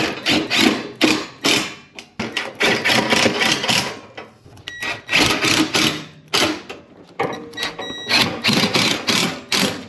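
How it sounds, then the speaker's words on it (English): A screw is driven into a custom metal shelf during installation, with loud bursts of high-pitched drill whirring broken by short pauses and clicks, close and alone without talk. "put a screw right there"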